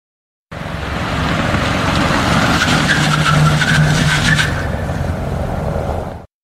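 A car on 7-year-old all-season tyres brakes hard from 70 km/h, giving a loud, sustained tyre squeal and skid of several seconds that holds steady, then fades out.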